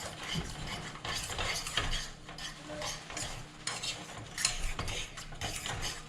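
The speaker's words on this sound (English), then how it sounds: "I'm taking this off the heat a little bit, just so I can continue mixing it." A spoon or spatula stirs thick choux pastry panade in a pan, making repeated scraping and squelching strokes in an uneven rhythm with a faint sizzle beneath.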